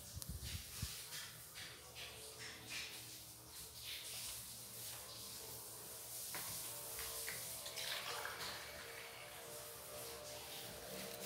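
Water poured into a cooking pot of pork stew on a low flame, a faint steady trickle and splash that lasts several seconds with a slight rise in pitch as the pot fills.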